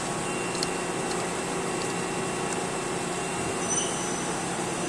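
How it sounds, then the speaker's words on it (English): A Mori lathe spindle turns at about 600 RPM counterclockwise with soft steel chuck jaws fitted, a steady mechanical hum and faint whine under a constant rumble, with a few light ticks and no talking. "I'm going to turn the spindle on"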